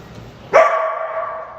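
A single sharp bark from a dog rings out close by and trails into a drawn-out whining tone.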